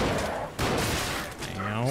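Enemy musket fire in the video game Lies of P, a loud gunshot burst and thud amid continuous game noise and effects, with a player's voice talking over it.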